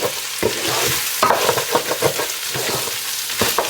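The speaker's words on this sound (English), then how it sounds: "we are toasting up our rice" Rice toasting in a hot pan while being stirred, with repeated scraping strokes over a continuous light sizzle, close and fairly loud, no voices.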